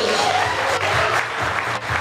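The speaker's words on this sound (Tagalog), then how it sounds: "Palakpak naman yung mga friends niya from Meralco Village" A brief burst of applause and cheering from guests at an 18th birthday party, the clapping crowded together, with voices and low background music mixed underneath.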